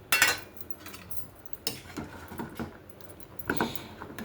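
Sweet potato pieces dropped into custard in a cooking pan, giving a few short clinking, scraping taps of a utensil against the pan, spaced irregularly, close and fairly quiet, with no talking.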